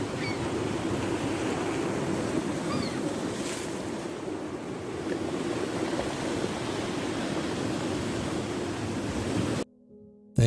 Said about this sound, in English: Thank you for the ocean sounds.